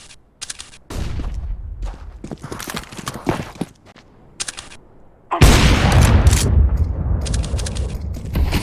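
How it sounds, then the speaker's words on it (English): A flashbang grenade and gunfire in the game Counter-Strike: Global Offensive, a run of sharp, irregular shots and clatters that gives way to a loud, sustained burst of blasts and firing. "Flashbang."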